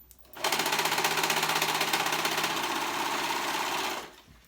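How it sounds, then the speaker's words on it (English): A serger stitches three fabric layers (liner, back and front) together with elastic while sewing panties, a loud, close, steady rapid whir that starts abruptly, runs for about three and a half seconds and stops sharply. "And I'm going to serge that together, the 3 layers, the liner, the back, and the front, and then the elastic as well,"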